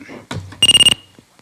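A game show contestant's electronic buzzer on an arcade-game quiz show sounds as a short rapid burst of pulsed beeps lasting about a third of a second, loud and close, with brief speech just before it.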